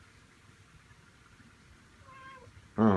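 A house cat meows once, close and fairly loud, near the end, after a short faint higher call over quiet room noise.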